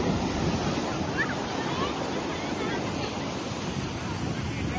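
Strong, cold wind gusts at the seaside roar steadily into the microphone alongside breaking surf, a loud, continuous wash of noise with no pauses.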